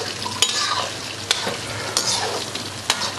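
Chicken for Kolkata-style chilli chicken fries in a pan with a loud, continuous sizzle, broken by sharp spatula strokes against the pan about once a second as it is stirred; no one speaks.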